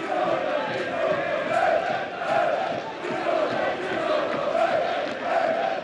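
A football crowd at a Fehérvár Champions League match roars and chants in rising and falling waves to spur on the home team, a dense, steady stadium din with no clear individual voices.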